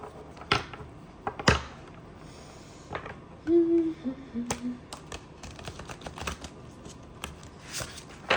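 Tarot cards being shuffled in quick riffling bursts and soft slaps, close up, with scattered taps and clicks in between and no talking.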